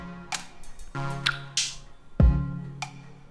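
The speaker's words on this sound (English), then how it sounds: "And finally a clap sound." In a sparse pop production beat, a bright clap sound cracks once amid plucked synth notes, clicky ticks and a deep booming kick, each hit close and clear.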